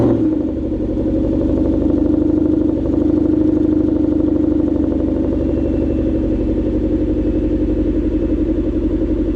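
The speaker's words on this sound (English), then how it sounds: "So you guys are gonna get another cold start" A Ford Mustang engine idling after a warm start, a loud, steady, rumbling drone close by with an even pulsing rhythm throughout.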